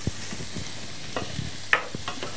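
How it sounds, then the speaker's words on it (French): Vegetables including courgette braising for a vichyssoise soup as a utensil stirs them, giving soft scraping strokes and a faint sizzle, with one brighter clink midway, all fairly quiet with no voices. "on braise encore 5 petites minutes sans cesser de remuer"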